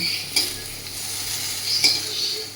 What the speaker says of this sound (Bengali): এবার আমি কড়া থেকে উঠিয়ে নিলাম